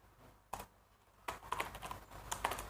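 Quiet, close clicking of a computer keyboard being typed on, irregular keystrokes that start sparse and then run in a quicker burst.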